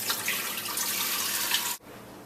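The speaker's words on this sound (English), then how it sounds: "Now I'm going to put 5 cups of water." Water from a tap pours steadily into a soup pot while Tibetan basic soup is being made, a bright continuous splashing that cuts off abruptly near the end.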